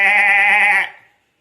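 A person's voice imitates a goat, producing a single loud, wavering nasal bleat held for under a second before it trails off into silence.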